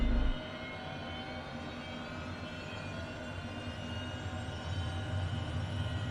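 Honda Jet engines throttled back to idle in Microsoft Flight Simulator 2020, a steady droning whine and rumble that drops slightly right at the start and then holds evenly, alone with no speech.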